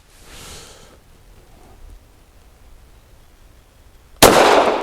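Girsan MC14G84 handgun firing a Remington Ultimate Defense 102 grain brass jacketed hollow point: a single sharp, loud gunshot near the end after a quiet outdoor stretch.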